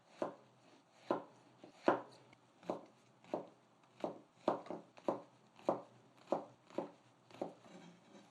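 A knife minces two shiitake mushrooms, about 42 g, on a cutting board. Around a dozen crisp, evenly spaced chops sound close by, with no voices over them.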